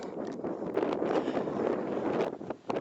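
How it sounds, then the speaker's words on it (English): Strong wind buffets the microphone on a mountain ridge at Foel-goch, a dense continuous roar with gusty swells, loud and close, with no talking. "the wind is very, very strong"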